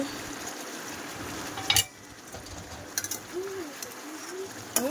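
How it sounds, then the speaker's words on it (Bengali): Large chicken pieces slow-frying in a pan for homemade biryani give a steady sizzle with occasional scraping stirs, while bird calls sound faintly from outside. "একটু ধীরে ধীরে কষাই করতে হবে, যেহেতু চিকেনগুলো বেশ বড় বড় সাইজ।"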